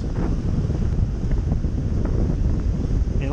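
Strong wind buffets the microphone on an ocean beach with big, rough waves, a steady roaring gust noise filling the whole stretch without a break.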